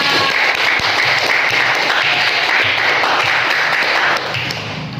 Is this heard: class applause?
yes